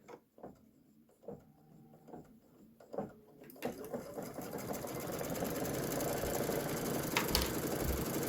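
Sewing machine stitching a quilted pillow top, starting with a few sparse, separate stitch pulses, then breaking into loud continuous rapid whirring stitching that holds steady to the end.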